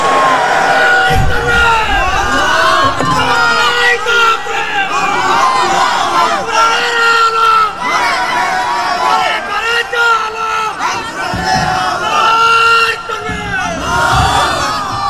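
A large outdoor crowd at a Bangladeshi Islamic waz sermon gathering chants and shouts loudly in rising and falling waves of voices, dense and continuous from start to end.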